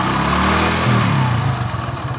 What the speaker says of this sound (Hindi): हमने बाइक को स्टार्ट कर दिया, और आवाज़ को मैं सुनाता हूँ आपको